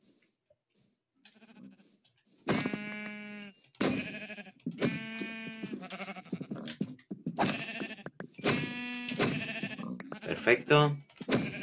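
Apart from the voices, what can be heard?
sheep bleating in a video game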